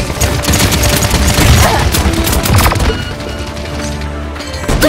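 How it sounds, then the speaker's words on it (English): Loud, dense gunfire and impact bursts from a team fight in the video game Paladins, sustained and overlapping with game effects filling the mix. "Enemies are firing on me."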